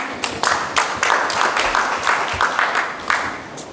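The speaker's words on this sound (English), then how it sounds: "Please give him a round of applause one more time." Audience at an agricultural symposium applauding, a dense burst of many hands clapping that swells and subsides over a few seconds.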